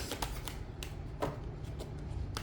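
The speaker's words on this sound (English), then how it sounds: "I'm going to do one more shuffle" Tarot cards being shuffled in a quiet room, a run of soft riffling bursts and light slaps at an uneven pace, close and moderate in volume, with no one speaking.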